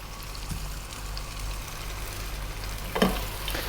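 Tomatoes with turmeric and green cardamom powder frying in a pan of camel meat, a steady low sizzle running throughout with a brief louder clatter near the end.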